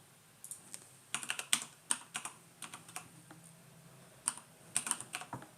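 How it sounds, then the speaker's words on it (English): Someone types an IP address on a computer keyboard to connect to a server over SSH. Bursts of quick key clicks come in uneven clusters, close and fairly quiet, with no talking. "you simply just type the IP address in"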